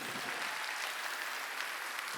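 A church congregation applauds during a Korean Sunday worship service, with steady dense clapping from many hands throughout.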